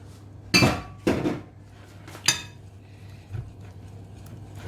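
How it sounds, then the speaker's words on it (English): Egg yolks are mixed into sponge cake batter in a bowl, with a few sharp clinks and knocks of a utensil against the bowl, three strong strokes followed by softer ones, close and without talk. "Just going to mix it in."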